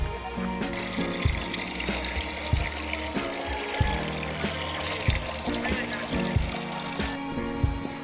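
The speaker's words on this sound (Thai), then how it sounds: "ใส่น้ำลงไปให้เต็มเลยค่ะ หนึ่งบัวรดสิบลิตรค่ะ" Water pours steadily into a 10-litre watering can that is being filled to the brim to mix a microbial fertilizer for potted Japanese cucumbers, a continuous splashing trickle under a voice.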